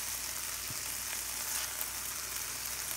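Pieces of yellowtail snapper fry in a pan, giving a steady, dense sizzle and crackle that holds evenly throughout with no talk.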